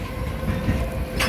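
A freight train rumbles steadily close by, with a continuous low roar and faint rhythmic clatter, a distributed power unit engine running at the back of the consist.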